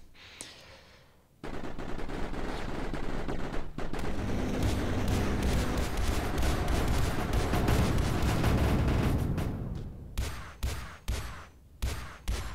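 In the Mindustry video game, Foreshadow turrets and other weapons blast away at units in a dense, continuous roar of rapid gunfire and explosions, which gives way near the end to a string of separate loud booming shots.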